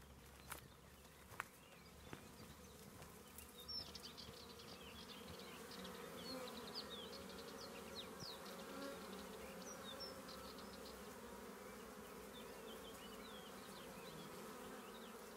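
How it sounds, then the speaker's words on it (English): Honeybees swarm thickly at a hive entrance in a natural apiary in Andalucia, Spain, making a steady, dense buzzing drone throughout, with a few soft footsteps early on as someone walks up close. "another hive, very, very busy. I'll walk up and show just how busy they are at the entrance"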